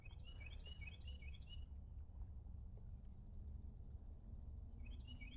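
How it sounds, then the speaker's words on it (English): Birds sing in short bursts of chirps and tweets on a pretty morning by a river before sunrise, with repeated phrases at the start and end over a steady low ambient rumble. "The birds are definitely active, both in their flight and in their song."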